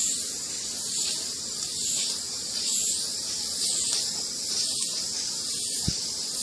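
Continuous hiss of chalkboard spray paint being sprayed across a board in steady passes, the airy rush swelling and easing rhythmically with each stroke, close and fairly loud.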